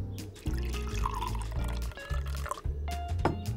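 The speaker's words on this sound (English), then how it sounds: "Now we're going to add the milk. Just about half a cup." Milk is poured into a pan holding chocolate, a short, close liquid pour with gurgling and splashing that comes in uneven bursts.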